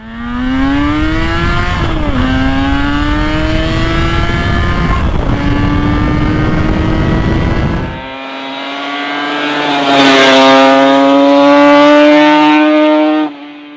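A 1985 Yamaha RZV500R two-stroke V4 motorcycle being ridden, its engine a loud raspy buzzing whine that holds and shifts pitch, dips briefly, then surges higher again before cutting off.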